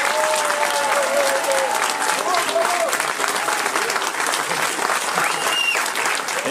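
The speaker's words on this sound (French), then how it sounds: "j'aimerais qu'on fasse un tonnerre d'applaudissements, mais vraiment, pour Patrick Delker" A crowd at an outdoor celebration for the 125th anniversary of the Capucin funicular in Le Mont-Dore gives Patrick Delker a thunderous round of applause, dense and steady throughout, with a few voices rising through the clapping.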